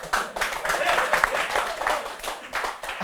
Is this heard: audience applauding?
yes